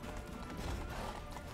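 Hoofbeats of a galloping horse in The Witcher 3, a steady dense clip-clop rhythm running throughout under a broad wash of low game ambience, moderately quiet with no talk.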